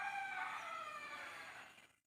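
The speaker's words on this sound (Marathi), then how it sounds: "सकाळचा अलाराम कोकणामधला कोंबडा आरवणे" A rooster in rural Konkan crows at morning after a night of heavy rain, one long, drawn-out call that fills nearly the whole clip, then cuts off abruptly into near silence.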